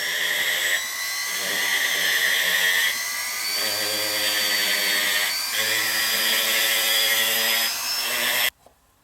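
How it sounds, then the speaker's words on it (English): Power carver grinding and shaping the seat of a wooden toy tractor, a steady high-pitched whine with a few brief dips in pitch as it bites into the wood, running continuously and close up before stopping abruptly at the end. "now using my power carver, if you don't have a power carver, you can use a Dremel"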